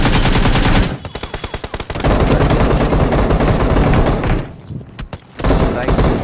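Gunfire in a battle royale mobile game: loud, close automatic bursts of rapid shots, a stretch of evenly spaced single shots, then more sustained firing, with someone talking excitedly over the action.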